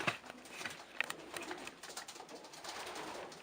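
A young Stichelbaut pigeon hen coos quietly at close range, soft throaty calls with a few sharper clicks at the start, middle and end.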